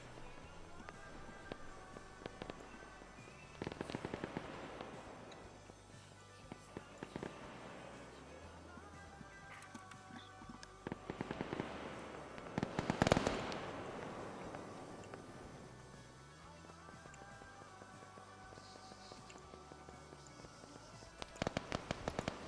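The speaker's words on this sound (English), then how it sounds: "they're mag dumping the green slots" Rapid bursts of automatic gunfire in a battle-royale style video game, bodies emptying magazines in repeated crackling volleys at varying distances, some louder close strings and quieter far ones, with occasional commentary-like voice faintly beneath.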